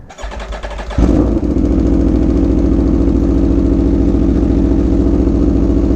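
An Aprilia Tuono V4 1100 motorcycle engine cranks over and fires up, then settles into a loud, steady, rumbling idle that holds close by.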